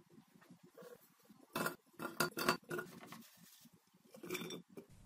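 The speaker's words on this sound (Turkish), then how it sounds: "Şimdi doğradığım elmaları kavanozuma dolduruyorum." Chopped apple pieces clatter and clink into a glass jar in uneven bursts, with some bright, close knocks against the glass and quieter gaps in between.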